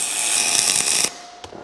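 MIG welding in the flat position with a spool gun on an ESAB welder, a loud, steady crackling hiss that cuts off abruptly after about a second, followed by a faint click.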